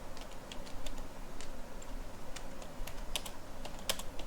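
Rapid typing of code on a computer keyboard, with quiet irregular key clicks going on steadily and a few sharper taps standing out, heard alone with no talk.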